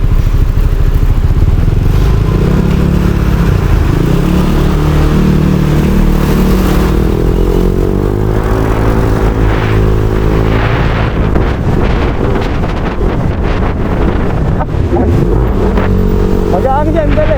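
Yamaha Lexi scooter riding along a city road, its steady engine drone and heavy wind rush continuous throughout, with someone talking over it now and then.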